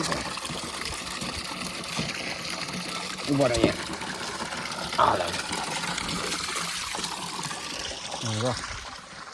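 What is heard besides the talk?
water filling a container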